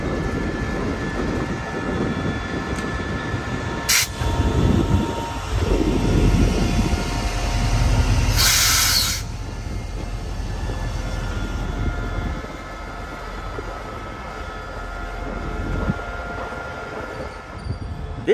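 A State Railway of Thailand container train locomotive rumbles steadily at close range, with a low engine drone, clanking wagons and a couple of brief bright squeals or hisses partway through; no talking.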